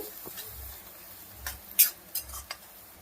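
Onions with salt and turmeric frying in a pan while a spoon stirs them: a soft sizzle underneath with a few sharp scrapes and taps of the utensil, close and fairly quiet, no voices.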